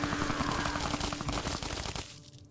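Gunfire in Fallout during a fight in the Honest Hearts DLC: a dense, fairly loud run of rapid shots that cuts off abruptly, with no one talking.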